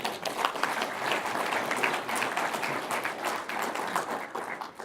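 A workshop audience on coho salmon habitat conditions claps steadily in a meeting room, a moderate, even wash of applause that stays constant for the whole stretch with no talk over it.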